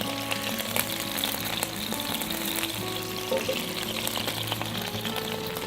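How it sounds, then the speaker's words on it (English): Fish juices sizzle and crackle steadily in a pan, the frying close and continuous, with faint clinks and a soft voice in the background. "All those juices sizzling, it smells amazing."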